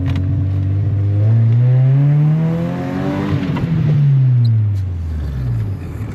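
Honda Civic EX engine revving hard and loud, pitch sweeping up and falling back twice in long rising and dropping pulls, close by with a steady roar throughout.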